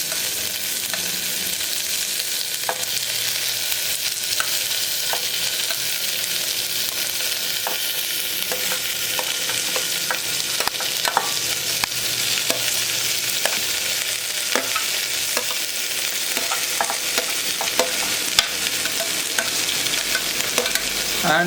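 Sliced large onions sizzling and being stirred in a hot pan while cooking mutton kuzhambu, a steady loud frying hiss with frequent scraping clicks of the spoon, no voices.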